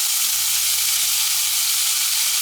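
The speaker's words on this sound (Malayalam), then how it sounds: "നല്ലപോലെ ഒന്ന് വഴറ്റിയെടുക്കാം." Onions and a large tomato sautéing in a hot pan for a mutton roast, a steady close sizzle with a faint low hum underneath and no voices.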